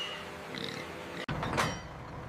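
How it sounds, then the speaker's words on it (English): Pigs in the receiving area of a large pork processing plant, grunting and squealing amid a steady din of machinery and handling noise, with a sharp squeal rising partway through. "The pigs now move from transportation into the plant's controlled livestock handling system."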